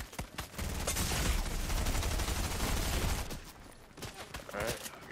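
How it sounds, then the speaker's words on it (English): Heavy automatic gunfire in Fortnite, a dense sustained burst lasting a few seconds with shorter shots before and after, loud and close. "there's a second dude shooting at me from the west"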